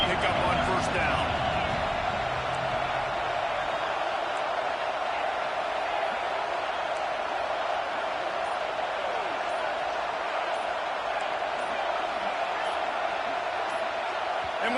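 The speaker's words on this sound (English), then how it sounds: "the crowd forces a false start" A stadium crowd roars steadily at a college football game between Georgia and Ohio State, a dense, continuous wall of noise that stays loud throughout.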